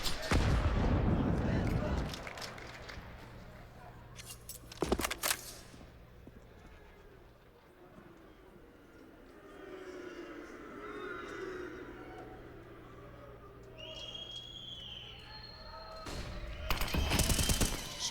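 Gunfire in a CS:GO match at a pro tournament: sharp bursts of shots crack at the start, around the middle and at the end, with quieter game ambience between them.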